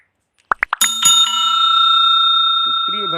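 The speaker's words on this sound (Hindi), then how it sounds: "बेल वाली घंटी दबाना मत भूलें ताकि आपको सारी नोटिफिकेशन हमेशा मिलती रहे" A bright bell notification sound effect: a few quick plucked tings followed by a clear ringing ding that sustains and slowly fades, loud and close, with a faint murmur near the end.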